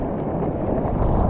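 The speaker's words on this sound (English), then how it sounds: "So that wind has gone cross shore now." Steady wind blowing at a surf beach, rushing as a loud, continuous low roar that buffets the microphone with no talk over it.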